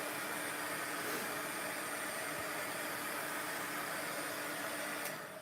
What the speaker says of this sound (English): use your heat tool and dry this a little quicker